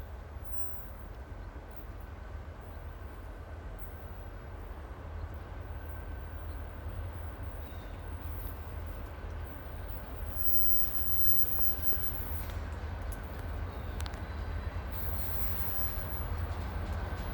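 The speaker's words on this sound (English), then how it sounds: "Here comes the train, the engineer side." A train rumbles past close by, a continuous heavy roll with high metallic squealing from the wheels singing on the rails growing stronger toward the end.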